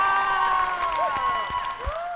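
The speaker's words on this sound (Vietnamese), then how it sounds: "vỗ tay!" Studio audience applauding and cheering on a Vietnamese party game show, a short burst of clapping and whoops under bright musical tones, loud and close.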